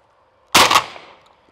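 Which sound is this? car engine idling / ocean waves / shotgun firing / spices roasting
shotgun firing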